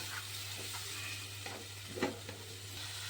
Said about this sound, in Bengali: এবার এগুলো একটু কষিয়ে নেব।